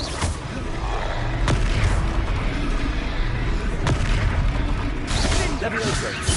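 Confringo blasting spell detonating in Hogwarts Legacy on PlayStation 5, loud booming impacts and crackling blast noise over continuous game combat sounds, with sharp bursts near the start and middle.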